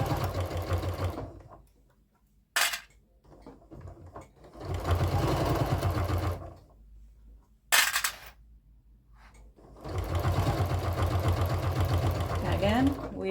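A domestic sewing machine stitches through layers of fabric on a 1/8-inch seam for a Christmas sewing project, running in three sustained bursts with quiet pauses between them.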